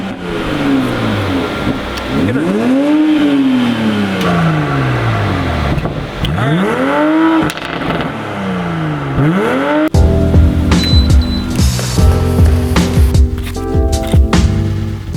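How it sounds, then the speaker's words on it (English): A Toyota Supra sports car engine revs in strong rising and falling sweeps, loud and close, then settles into a rougher, steadier running drone with clatter in the final seconds. "after more than 2 decades, the Toyota Supra is back on American roads"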